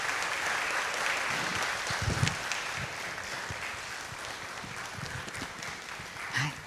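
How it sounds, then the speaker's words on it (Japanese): Concert audience applauds warmly to honor a performer's long-awaited dream come true, steady dense clapping sustained throughout with a few louder claps near the end. "どうぞ皆様今一度盛大な拍手をお願いいたします。"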